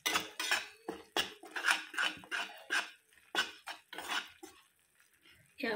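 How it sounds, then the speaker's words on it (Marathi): Melted jaggery for peanut chikki being stirred in a pan over a low flame, a series of rhythmic scraping, clattering strokes of a spoon against the pan, close and fairly loud with short pauses between them. "गॅसची फ्लेम कमी करून असं सतत हलवत राहायचं।"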